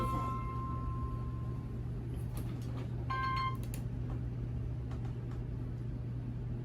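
A phone gives a few short electronic tones and beeps over a steady low hum and room noise, faint and spaced out, with no talking.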